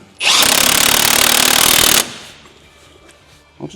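A nut gun (impact wrench) in a garage preparing a 1600 banger race car fires one loud, rapid hammering burst of about two seconds, close up, then stops abruptly, followed by quiet clatter.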